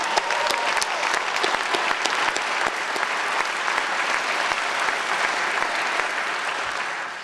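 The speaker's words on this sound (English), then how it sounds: "So I think we should give Alan Grammy another round of applause." A hall of fame induction ceremony crowd gives distance coach Alan Grammy another round of applause, a full, sustained clapping that stays strong throughout, with individual sharp claps close by, before it begins to fade at the end.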